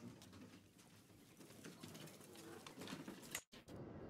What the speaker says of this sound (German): Sind das hier die Vögelchen, die jetzt hier rumfliegen?